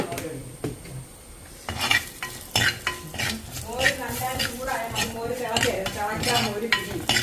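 Turmeric and chilli powder are stirred into hot oil for a Kerala-style moru curry. A quiet sizzle is followed by a spoon scraping and clinking against the pan in close, repeated strokes.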